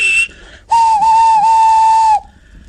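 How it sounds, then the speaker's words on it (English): Steam engines Thomas and Toby arriving at a cottage: a short shrill whistle, a pause, then a long, loud, steady steam whistle lasting about a second and a half with a faint hiss behind. "The engines whistled and called out when they reached the cottage."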